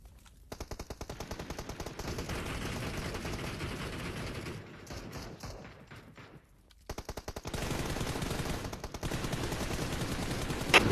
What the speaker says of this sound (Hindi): मैं गोली चला रहा हूँ, मैं मार भी रहा हूँ, उनको शॉट लग भी रहे हैं